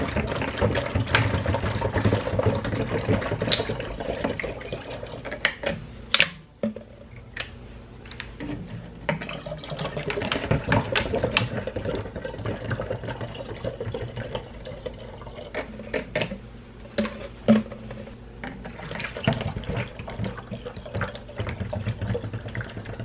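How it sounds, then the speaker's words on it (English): Water runs steadily into a handled Walmart water jug from a tap, a continuous splashing gurgle lasting over twenty seconds with occasional louder clunks and knocks. "So we're about to fill this jug up."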